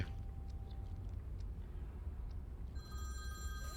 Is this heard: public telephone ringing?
yes